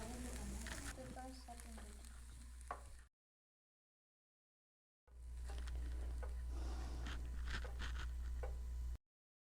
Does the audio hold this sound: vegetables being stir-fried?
yes